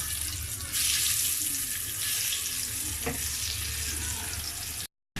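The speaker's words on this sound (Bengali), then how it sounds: "এখন আমি ডিমগুলো একটা একটা দিয়ে ভাজবো।" Eggs fry one at a time in hot oil in a pan (kadai), a steady broadband sizzle running close and fairly loud for several seconds, with a brief clink near the middle, before the sound cuts out to silence at the end.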